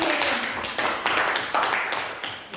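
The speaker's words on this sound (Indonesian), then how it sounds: "Oke, beri tepuk tangan buat Pak Samiki" Clapping from an audience after a presentation on positive school culture at a vocational high school, heard as a few uneven bursts of hand claps with sharp separate strikes rather than a full roar.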